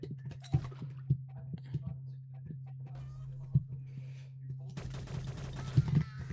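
Repeated single gunshots from a weapon in the Shell Shockers first-person egg shooter, fired in quick irregular bursts over a steady low in-game hum, with a denser clatter of action near the end.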